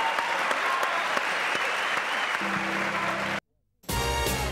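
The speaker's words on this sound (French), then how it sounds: "Merci Gisèle Flavie, applaudissements." Studio audience applause at a radio show, loud sustained clapping for over three seconds that cuts off abruptly, then a brief return of sound after a short gap.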